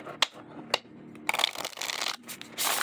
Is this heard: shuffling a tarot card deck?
yes